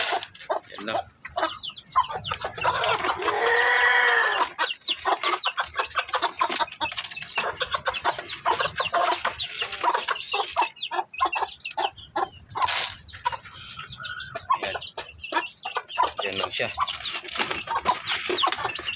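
A mother hen clucks repeatedly in short, soft bursts close by, with other chickens chattering and a brief crow-like call early on.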